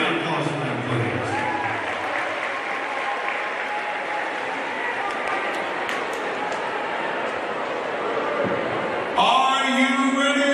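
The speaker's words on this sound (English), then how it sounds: "so big round of applause for them, please." A crowd applauds at an athletic department event, a sustained wash of clapping heard at a distance, with a brief louder burst of noise near the end.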